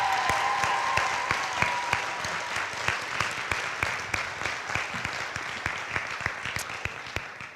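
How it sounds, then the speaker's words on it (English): Applause for the poets at a high school poetry slam: dense, continuous clapping from a crowd, loud and close, holding steady with individual sharp claps standing out throughout. "So give all the poets another round of applause"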